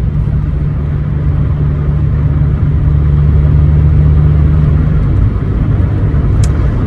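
A Mazda 323 driving on the road, a loud steady low engine drone and rumble from inside the car with a slight change in pitch near the end.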